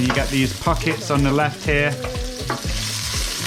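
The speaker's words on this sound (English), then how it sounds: "That's the noise you want to hear when you're frying stuff." Onions and garlic fry in oil in a pan, a steady sizzle running underneath someone talking close to the microphone the whole time.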